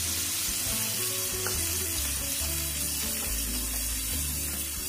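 Red chilli, coriander and turmeric powder frying with arbi (taro root) in a pan, a dense continuous sizzle held close and loud with faint stirring underneath.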